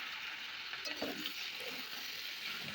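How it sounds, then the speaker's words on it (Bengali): Soft, steady frying of mushrooms with garlic paste and chilli powder in a little oil, a quiet continuous sizzle with a few light stirring scrapes partway through. "ভালো করে এটা আমি ভেজে নেব।"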